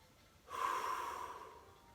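A single deep breath taken during a Pilates stretch, close and clear, a rushing airy inhale that swells and then fades over about a second.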